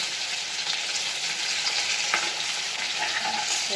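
Capsicum and minced keema frying in hot oil in a pan, a steady dense sizzle with faint stirring scrapes running continuously throughout, close and even in level, with no voices.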